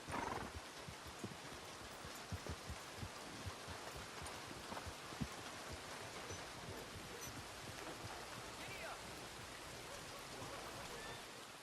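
Horse sounds in the video game Red Dead Redemption 2 set against steady rain, with hoof clops and snorting under a continuous wet hiss.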